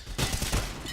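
Rapid M4 rifle gunfire in Counter-Strike on the Inferno map during a competitive match, a dense burst of shots that swells and continues through the second, loud and close.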